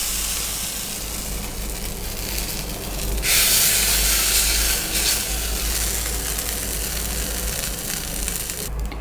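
Mustard seeds tempered in hot oil and poured into idli batter, giving a sudden loud sizzle and hiss that bursts up and then settles into a steady crackling fizz over background hum.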